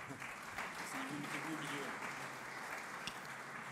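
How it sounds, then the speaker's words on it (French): Applause from the audience at a French debate on saving social security, a dense, even patter of clapping from a seated crowd, somewhat distant, with faint voices underneath. "Sous vos applaudissements, mesdames, messieurs."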